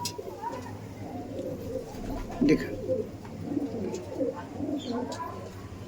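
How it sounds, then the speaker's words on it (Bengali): Chotiyal Madrasi fancy pigeons coo repeatedly at close range in a loft, soft throaty calls overlapping, with a person saying a word partway through. "আর এটা তো আমাদের ফ্যান্সি পায়রা নাকি দাদা?"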